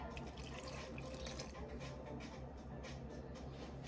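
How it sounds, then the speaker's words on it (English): Half a cup of milk pours into cinnamon streusel muffin batter in a faint, continuous liquid trickle with no talking. "So I'm going to go ahead and add in a half a cup of milk."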